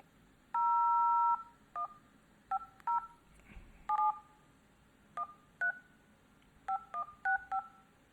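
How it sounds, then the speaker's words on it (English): A smartphone keypad sends a string of dual-tone dialing beeps while entering a number to test an AI call-center line; short, clear tones come in irregular clusters with brief pauses, with no talking. "So let me just try this number from my phone."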